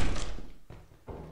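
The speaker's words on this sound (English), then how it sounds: "Fucking door opening sound effects." A door opening in a dark horror video game: a heavy thunk followed by two shorter knocking bumps, close and fairly loud over a faint ambient hum.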